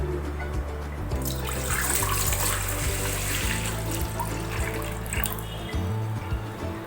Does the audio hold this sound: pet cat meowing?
no